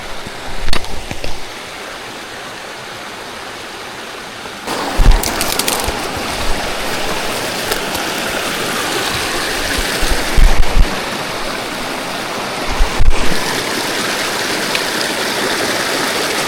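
A creek below a ridge in the Pine Pass area rushes steadily as a broad, continuous wash of water that stays loud throughout, broken by a few brief bumps and rustles nearby.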